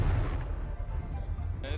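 A Confringo fire spell blasts in Hogwarts Legacy on PS5 as a short, loud explosive burst with rumbling low end, close up and alone.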